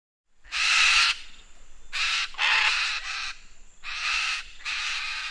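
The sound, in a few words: macaw calls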